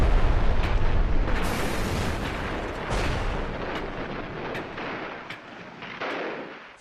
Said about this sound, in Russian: русские взрывают и сжигают почти все корабли противника